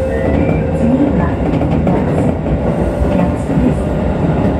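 A Keisei Electric Railway local train runs between Katsutadai and Keisei Yawata, recorded from the driver's cab: a loud, steady rumble of motors and wheels on rail with faint rhythmic clatter throughout.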